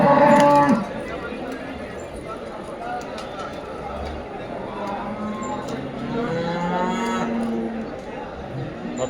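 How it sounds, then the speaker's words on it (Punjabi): Buffaloes and cows low at a busy cattle market, one close moo at the start and more drawn-out bellows later, under a steady hum of crowd chatter and nearby talk. "ਬਹੁਤ ਵੱਡੀ ਗਿਣਤੀ 'ਚ ਮੱਝਾਂ ਕਾਵਾਂ ਪਹੁੰਚੀਆਂ ਹੋਈਆਂ ਇੱਥੇ"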